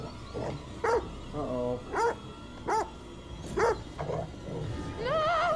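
A dog barks in a video game, several loud close barks and yelps in quick succession, with voices talking over them.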